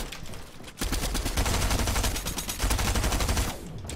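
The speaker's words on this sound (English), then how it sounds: "I'm getting shot with some else team." Sustained rapid gunfire from an enemy team in Fortnite, loud and continuous automatic bursts with a short pause near the start and a tapering end.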